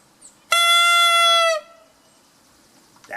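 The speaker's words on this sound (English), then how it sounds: "That's the sound of the reed in the mouthpiece." A clarinet reed buzzes in the mouthpiece alone, played outdoors. One loud, bright, reedy squawk holds steady for about a second, then stops abruptly into quiet.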